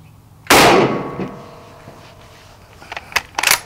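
A Mosin Nagant 91/30 sniper rifle fires a single loud, sharp shot at an outdoor range, its blast ringing out and decaying for about a second, followed by faint clicks and a few small knocks of handling near the end.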